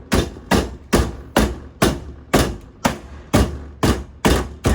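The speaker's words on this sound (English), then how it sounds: "with the walnuts, what I'm going to do is just take a hammer in the bag and smash it" A hammer pounds walnuts inside a bag for homemade natural dye, about ten heavy, regular blows roughly half a second apart, each a loud close thud with a quick decay.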